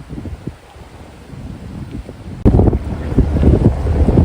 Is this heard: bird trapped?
no